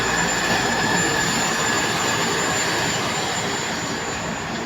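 Alimak construction hoist elevator at a high-rise building site running with a loud, steady mechanical roar and grinding rumble, close and continuous with no voices.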